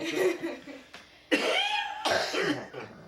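Several harsh coughs from an elderly man during a sit-down interview, close and loud, starting with a short burst and then two stronger throaty coughs at full volume.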